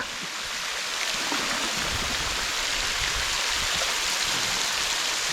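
A waterfall at Namtok Sairung in Umphang, on the upper Mae Klong River in Thailand, gives off a steady, dense rushing roar that fills the whole span evenly with no voices.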